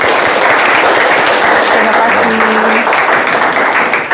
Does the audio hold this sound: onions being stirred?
no